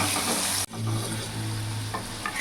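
Potato pieces with salt and turmeric fry in hot oil, a close, continuous sizzle broken by a brief pause and the scrape of stirring, then crackling steadily on.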